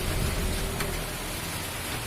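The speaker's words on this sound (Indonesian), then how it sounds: "cuaca hujan di sini" Steady rain pouring down outdoors during a roadside repair of a 2006 Honda Supra Fit motorcycle, a dense even hiss filling the whole stretch with no voices.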